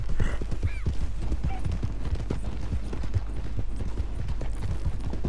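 Horse hooves clip-clop at a steady trot in Red Dead Redemption 2, close and continuous over a low ambient rumble, with a few faint whinny-like tones and no talk.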